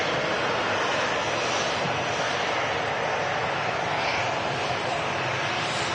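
A jet airliner in special livery at Manchester Airport roars steadily and loudly, a broad continuous rush of engine noise with little change across the span.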